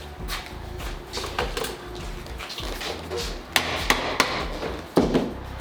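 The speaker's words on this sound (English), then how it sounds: "I'm going to knock this insert in here" An insert is knocked into a vinyl gate post with several sharp hammer blows, loud nearby strikes spaced irregularly over softer handling noise.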